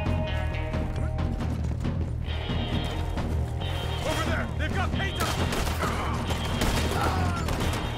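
Gunfire in Red Dead Redemption 2, a dense fusillade of shots and impacts running steadily through the whole stretch over busy game sound and a continuous background bed.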